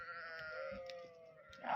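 A goat gives one drawn-out, wavering bleat close by, lasting nearly two seconds and swelling louder at the very end.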